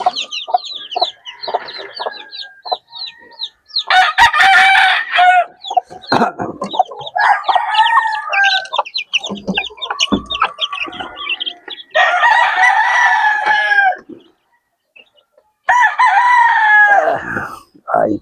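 Gamecocks on a small farm crow loudly and repeatedly up close, with strained, drawn-out calls overlapping bursts of clucking and chattering and a few brief pauses between.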